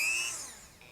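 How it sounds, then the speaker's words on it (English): A Dremel rotary tool with a sanding attachment grinds the sharp edges of a mosaic stepping stone, giving a brief, high, whining buzz that is loudest at the start and fades a little. "This is a Dremel, and it got this little like sanding thing there."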